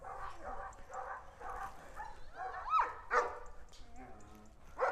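Malaklı dog about 90 cm tall barking and whining indoors behind a closed door, a run of several loud, close barks and yelps mixed with someone talking.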